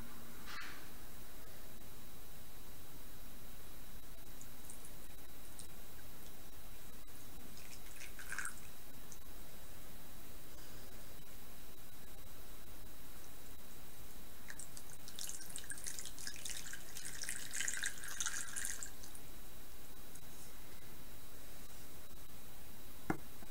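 Water is poured into a classroom land-and-water-forms model, with faint drips early on and a louder splashing pour later, heard over a constant soft hiss.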